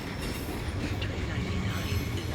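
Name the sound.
train departing Milano Centrale station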